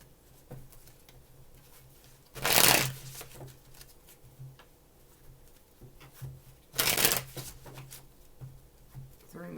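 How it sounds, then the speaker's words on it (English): A deck of tarot cards is riffled twice, each shuffle a short crisp burst, separated by several seconds of quiet room sound. "Three more shuffles."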